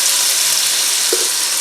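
Chopped vegetables for corn chowder sizzle in a pot with a loud, steady hiss, close by and unbroken.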